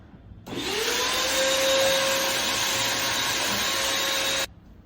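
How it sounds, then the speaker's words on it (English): A small yellow vacuum cleaner running while cleaning out a San Franciscan coffee roaster, a loud steady whine and rush that starts abruptly, holds for about four seconds and cuts off cleanly. "you're going to vacuum this out with a little tiny yellow vacuum"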